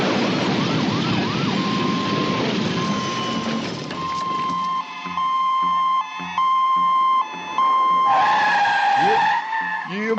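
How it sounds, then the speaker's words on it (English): A van skids and overturns in a radio drama: a long, loud tyre screech with whining tones, giving way to choppy, broken bursts toward the end, with no voices. "he's turned the van over"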